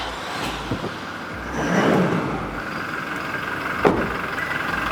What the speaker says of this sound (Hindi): अब ये रीवो का स्टार्टअप